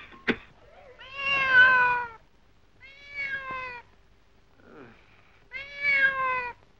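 A cat meows several times in separate drawn-out calls spaced over a few seconds, close and clear, with a brief knock at the start and no other sound between the calls.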